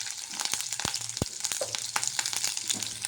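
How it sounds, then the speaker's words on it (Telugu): Tempering spices and chopped green chillies dropped into hot oil for puffed-rice chitranna, crackling and sizzling up close with sharp pops and a few scraping stirs. "అలాగే పోపు దినుసులు వేసుకుంటున్నానండి"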